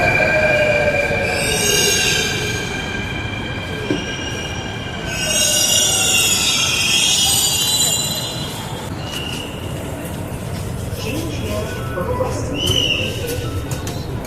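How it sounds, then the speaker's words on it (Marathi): A metro train pulls in with loud, sustained wheel squeal in two long bursts over a steady rolling rumble, then eases to a quieter hum with brief squeaks as it slows. "आले आपले मेट्रो"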